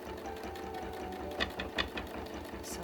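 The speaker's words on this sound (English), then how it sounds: "The stitching is going a reasonable speed" Sewing machine doing free-motion quilting on painted fabric, a steady fast mechanical chatter of needle strokes running continuously at moderate speed, fairly quiet and close with a few slightly louder clicks.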